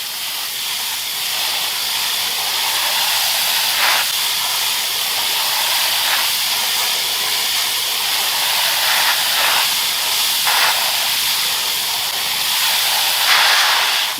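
A water hose spraying steadily to soak a fire ant mound, a continuous loud hiss with a few brief surges in force, no other sounds.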